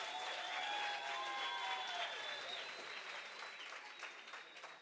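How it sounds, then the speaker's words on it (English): Audience applause at a university World Intellectual Property Day event for a chairperson, dense crowd clapping with some whistles over it, steady then slowly thinning across about five seconds. "Give Mr. Khoza a round of applause."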